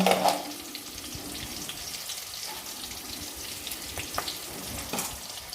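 Bay leaves and black cumin seeds sizzle in hot oil for a Bengali kochur loti dish with hilsa fish head, giving a steady close frying hiss with small crackles and pops throughout, no talking.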